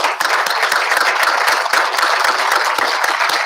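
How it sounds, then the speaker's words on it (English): An outdoor crowd claps at an elementary school groundbreaking ceremony, with dense, steady applause from many hands, close and loud throughout. "So let's give them a round of applause."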